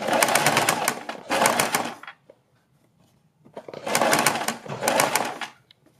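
Two paired bursts of a sewing machine stitching a fabric strip onto a blouse neckline, each run about two seconds long with a quiet pause between, close and fairly loud.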